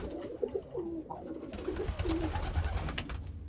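Birmingham roller pigeons coo softly in a loft, a steady run of low, throaty calls overlapping close by against a constant background rumble.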